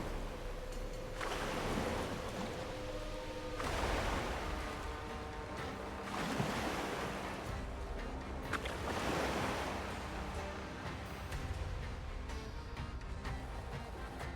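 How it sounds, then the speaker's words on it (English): Ocean waves rolling and surging at sea while wind blows steadily across the water in Bannerlord War Sails, a continuous broad wash with swells every few seconds and no voices. "So the ocean and its currents and waves, there's some physics in that"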